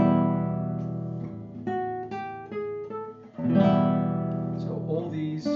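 Classical guitar running ascending and descending scales with chord changes as the direction turns, plucked notes ringing clearly at moderate volume, a brief pause before a fuller strummed passage; no talking.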